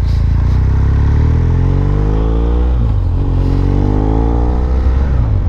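A 2015 BMW R1200R motorcycle revs up close and loud, its boxer engine climbing in pitch, easing off briefly, then rising again with a rough, throaty edge.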